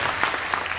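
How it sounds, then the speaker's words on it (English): Brief burst of audience applause at a convention actor panel in Toulouse, a steady wash of many hands clapping at moderate loudness with no break. "Applaudissements, s'il vous plaît."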